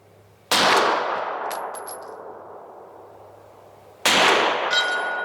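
Two loud SIG pistol shots fired at a steel target 100 yards away on an outdoor range, each followed by a long decay, with faint, thin metallic pings ringing afterward.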